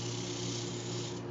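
Steady abrasive rubbing hum of sandpaper against a wet green wood bowl spinning on a lathe, a continuous close drone under the motor with no speech.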